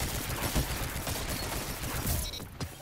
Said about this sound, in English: I just shot that guy around a corner.